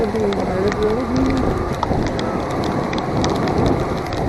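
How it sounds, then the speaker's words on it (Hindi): Steady rain pours during a motorbike trip through the hills, a dense, continuous hiss and patter close by, with a voice briefly heard near the start. "प्लीज इस बारिश को ख़त्म कर दो भगवान।"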